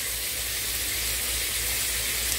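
Food sizzles steadily in a hot pan while holiday dishes are cooked, a constant bright hiss over a low hum that never lets up, with no talking.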